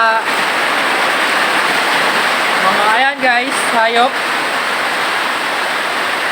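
Heavy rain pouring steadily outdoors, a loud constant hiss throughout, with a person speaking briefly over it midway.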